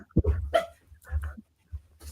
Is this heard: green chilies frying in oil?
no